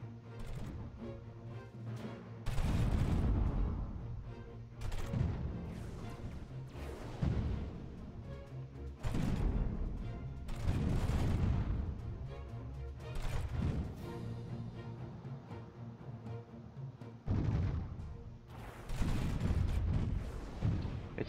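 Starship weapons fire in a Master of Orion space battle: repeated heavy booming volleys that come in bursts every couple of seconds, loud and continuous over about twenty seconds, with no talking.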